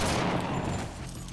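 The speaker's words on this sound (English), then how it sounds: "When his gunshots ring out" A rapid burst of gunfire from a zombie TV drama prison scene, dense and loud throughout a short, close fusillade with no talk.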